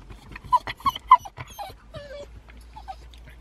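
A dog whimpers eagerly at the start of a walk, letting out a run of close, high whines and yips that rise and fall, with no talking over them.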